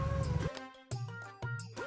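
A pet cat meows in repeated drawn-out calls beside a tandoor, fairly close and clear, with background noise and a voice faintly under it.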